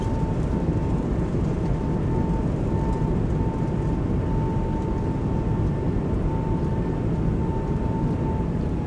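Simulated Airbus A220 on its landing rollout with thrust reversers deployed, giving a steady, dense roar with a faint whine that holds level and close throughout.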